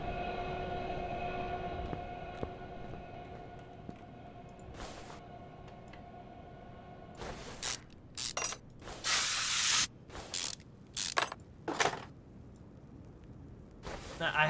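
A WD-40 spray can hisses in Car Mechanic Simulator 2021, several short bursts of spraying, one longer, loud and close over a quiet game background hum.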